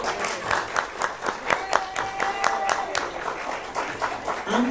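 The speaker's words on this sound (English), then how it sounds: "Y'all, just give these women a round of applause." An audience claps at a live C4SA coalition event, a lively round of applause with a voice speaking faintly through the clapping.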